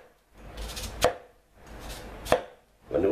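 A knife chops through an onion on a cutting board, giving three firm, evenly spaced thuds, each preceded by a soft slicing rustle, close and clear with no talking.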